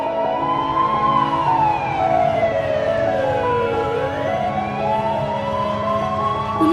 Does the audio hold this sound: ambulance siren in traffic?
yes